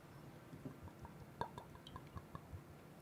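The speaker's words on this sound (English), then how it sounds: "Sounds like dumping water out of a bottle." Liquid is gulped from a glass bottle in quiet, close, irregular glugs and wet drips, with a few soft swallowing and sloshing pulses over a faint background.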